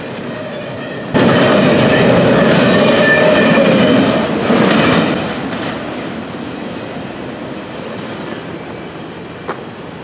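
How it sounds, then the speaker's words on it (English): A Norfolk Southern freight train rumbles past close by, loud rolling noise and clattering wheels that gradually fade toward the end. "After the southbound train got by, our northbound then got back underway."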